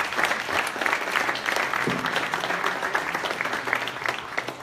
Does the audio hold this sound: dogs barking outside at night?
no